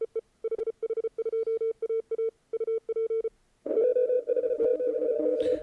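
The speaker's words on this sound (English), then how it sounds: "Yeah, so Adam, you put it in the run mode here in CW" Keyed CW Morse tones from an HH2AA amateur radio station sending in run mode: a quick, steady string of dots and dashes on one pitch, then a short gap before a busier, static-laced band of overlapping signals.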